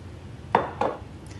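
A pan set on a stovetop at medium heat, with a little oil added for frying plant-based black bean burgers, gives two close, sharp metallic clinks about a quarter second apart, then a faint tap, with no talking.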